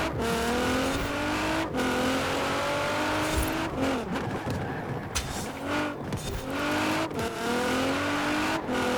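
A race car engine roars through a Le Mans lap in a racing video game, revving up through repeated gear shifts with rising pitch sweeps, loud and continuous, with touches of tire squeal.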